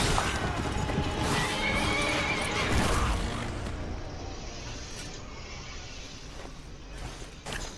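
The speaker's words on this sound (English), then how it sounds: "So now we are riding again our horse" A horse whinnies loudly over a dense, busy Game of Thrones: Kingsroad game soundscape with hoofbeats and rushing motion, the din easing off toward the end.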